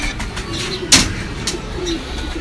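A breeder pigeon gives soft, low cooing up close, with a sharp tap partway through.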